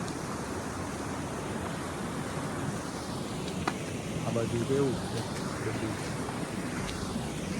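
Rushing water from a river near a Goutameshwar Mahadev temple makes a steady broadband roar throughout, with someone talking briefly over it.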